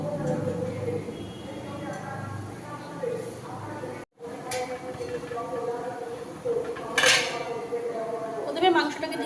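Meat goes into a cooking pot for chicken biryani in a home kitchen, with repeated metallic clinks and clatters of the pot and utensils close by, under a speaking voice.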